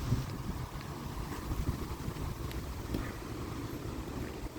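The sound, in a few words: wind blowing outdoors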